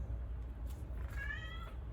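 A house cat meows once near the end, a short rising-falling cry over a steady low background hum, fairly close but not loud.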